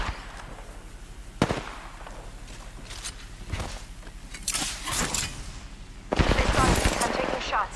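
Bursts of gunfire in Apex Legends, sharp shots cracking out in clusters with a heavier sustained volley near the end, over game ambience.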